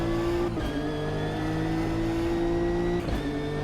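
A Nissan race car engine in the racing game Automobilista 2 holds a steady loud drone at high revs, with two brief dips where gears shift.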